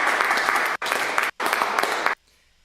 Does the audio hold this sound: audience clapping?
yes